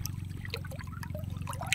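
Murky river water where salt water and fresh river water mix flows and trickles nearby in soft, uneven splashes over a steady low droning hum.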